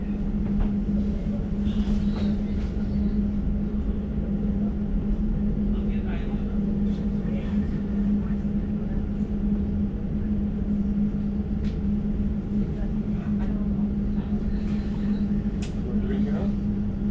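An Elizabeth Line train pulls into West Drayton station, heard from inside the carriage as a steady electric hum and rolling rumble with faint clicks, while a voice announcement plays over it.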